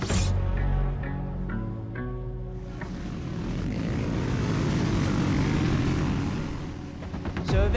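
A massed drone of motocross bike engines racing across sand dunes, including a homemade Himalayan-based bike, swells and shifts in pitch as a continuous wall of buzzing, with a sharper rasp near the end.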